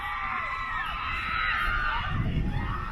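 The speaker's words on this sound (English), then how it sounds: "Seems like there's a lot of people screaming over there" Distant crowd screams and shrill shouts rise over a steady amusement-park wash at Kings Dominion, with a low rumble swelling toward the end.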